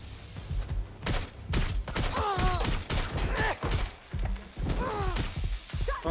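Gunfire in the video game Watch Dogs: Legion, a rapid burst of loud close shots and impacts mixed with game sounds and someone talking over the action.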